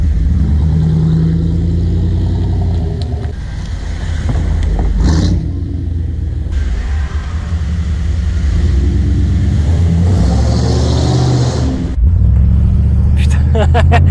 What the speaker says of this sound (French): pour un 5 litres qui a pas de prétention ultra sportive, ça gueule quand même bien